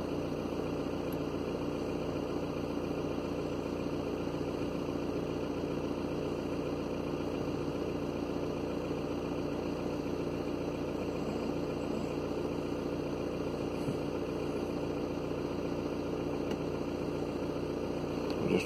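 A car engine idling steadily at 800 RPM during a DPF cleaning treatment, a constant low hum with a continuous drone and no speech.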